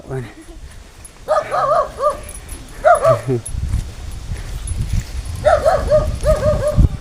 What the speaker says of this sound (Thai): มาเห่าอีกแล้ว